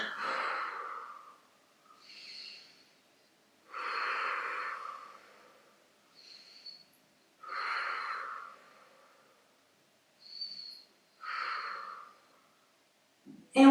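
Steady breathing during a back and abdominal workout, slow deep inhales and exhales repeating in a regular rhythm roughly every two to three seconds, close and fairly quiet with pauses between breaths.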